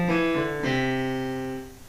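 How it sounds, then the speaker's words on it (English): A quiet piano sounds a couple of notes in succession, each one ringing clearly and decaying smoothly with no voice over it. "This is the sound of a piano."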